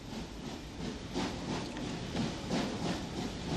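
A steam train runs along the main line in Ulster beside a 1930s reinforced concrete viaduct, heard as a soft, fairly distant rumble with rhythmic wheel clatter and hiss.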